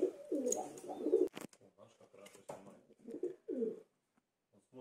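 A rescued pigeon-like bird found on a bench gives soft throaty coos in a few short bursts with pauses between, close by and fairly quiet.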